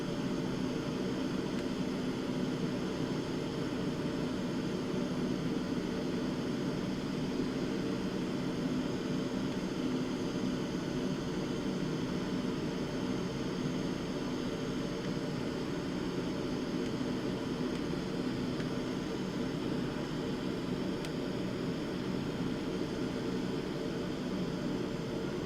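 Continuous even drone of a propeller aircraft engine in a flight simulator game, steady and moderately quiet from start to finish with no breaks or voices.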